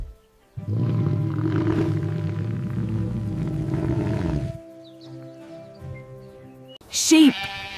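A sheep bleats in one long, loud, wavering call, followed by a quieter, lower tail and then a brief sharp sound at the end.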